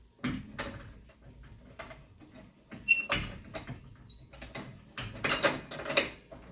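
Lug nuts on a car wheel are tightened in a star pattern, with repeated close metallic clicks and rattling bursts from a wrench in irregular spurts over a few seconds.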